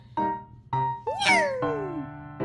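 A person imitates a cat while playing with a Pekingese dog, repeating a drawn-out Korean-style "nyang" meow four times in a playful voice, with short pauses between calls.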